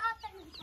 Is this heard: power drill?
no